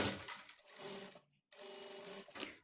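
A sewing machine stitches along a folded fabric edge in two steady bursts of rapid mechanical whirring, split by a short pause, close up with no voices.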